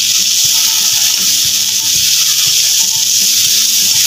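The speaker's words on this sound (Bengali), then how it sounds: "একটু অল্প পরিমাণে হলুদ গুঁড়ো দেবো, দিয়ে এটাকে নাড়াচাড়া করে দেবো।" Gima greens with salt and turmeric frying in a pan, a steady loud hiss of sizzling oil with soft rhythmic scraping of a spatula stirring the leaves close by.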